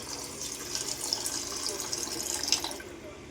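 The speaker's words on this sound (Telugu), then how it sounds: "గ్లాసు నీళ్ళు వేయాలి" A glass of water poured into a pot of fish biryani in a home kitchen, a steady trickling splash lasting about three seconds before stopping.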